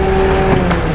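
Bu Putri's car pulls up nearby, a loud steady engine drone with a low hum and faint whine, brief and continuous without pauses.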